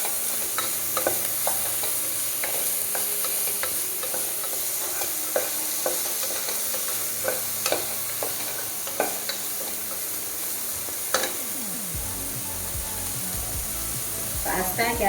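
Onions and tomato sauté in a pan for fusilli pasta, with a steady sizzle beneath repeated scraping stirs and light clicks of a utensil against the pan. No one speaks.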